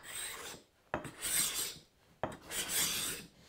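A hand scraper with a sole shaves wood at a glued panel joint, making two rasping, scratchy strokes, each starting with a sharp catch and then a long dry scrape, close and clear.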